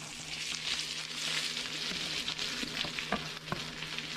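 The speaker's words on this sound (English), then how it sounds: "now that we got our oil nice and hot, we're gonna go ahead and plop in our onions," Onions, green chilies and jalapeños frying in hot oil, a steady close hiss and crackle of sizzling with scattered pops and a few clinks of a stirring utensil, no voices.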